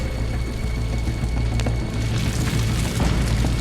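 A brushwood shelter burning: a loud, continuous roar of fire with dense low rumble and faint crackles, steady throughout.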